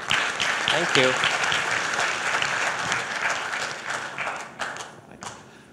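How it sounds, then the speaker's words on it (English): Audience applause rings out through a hall at a technical networking conference session, dense clapping that swells early and gradually thins toward the end, with a brief spoken thanks over it. "So a round of applause for Adisorn."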